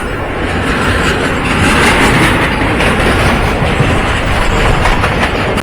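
A Howrah-bound train passes alongside a moving Santragachi–Digha special train, heard from on board as a loud, steady, dense rumble and rush of wheels and air with no pauses.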